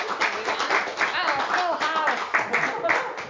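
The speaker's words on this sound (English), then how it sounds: "if you could give her a really big round of applause" Clapping at an in-person book talk in a bookstore, heard moderately loud with voices mixed in throughout.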